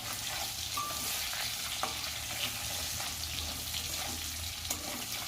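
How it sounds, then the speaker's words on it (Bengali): Potato pieces frying in oil in a home kitchen pan, a steady low sizzle and crackle running throughout with a few faint clinks of stirring, no talking. "আলুটাকেও আমি ভালো করে একটুখানি ভেজে নেব।"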